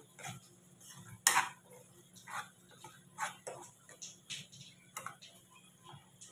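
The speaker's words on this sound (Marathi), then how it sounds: "तर आता गॅस चालू करते मी, कारण मी गॅस बंद केलेला होता." Gas stove in a home kitchen being lit for cooking egg curry: faint, sparse igniter clicks, one sharper snap among softer ticks, heard close but quietly with a little background clatter.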